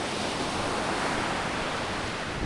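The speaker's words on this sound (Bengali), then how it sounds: "আপনারা দেখতে পাচ্ছেন বঙ্গোপসাগরে কি বিশাল বিশাল ঢেউ আছড়ে পড়ছে পারে" Large waves crash onto the Bay of Bengal shore at Gopalpur beach on a windy, overcast morning, a loud, unbroken roar of surf with no voices.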